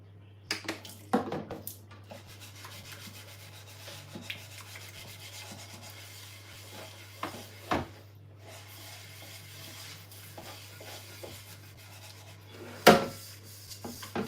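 Scrubbing while washing up dishes, with a soft continuous rubbing and rasping plus occasional knocks and clinks of dishware, over a steady low hum.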